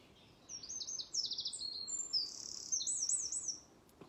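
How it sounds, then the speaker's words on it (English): A bird sings on a morning walk, a series of bright, high, rapid chirping phrases at moderate distance over quiet outdoor ambience with faint insect hum. "Listen to that bird."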